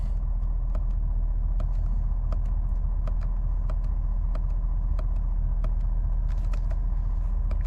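Ford Super Duty truck engine idling close by in a loud, steady low rumble, with faint rhythmic ticking over it and no talking.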